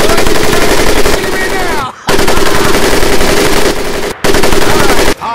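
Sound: M1919A4 .30 caliber machine gun firing, from a video game

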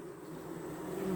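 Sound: honeybees buzzing at hive

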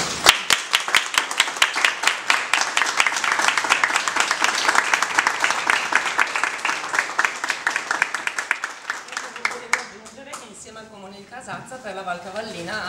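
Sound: loud applause for the women

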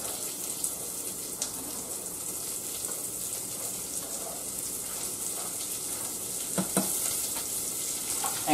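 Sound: chopped onion frying and sizzling in a pan

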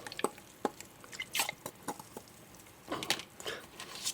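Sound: mixing liquid fertilizer solution

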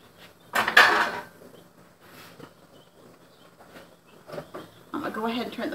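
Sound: clanging of pots, lids and jar rings while canning

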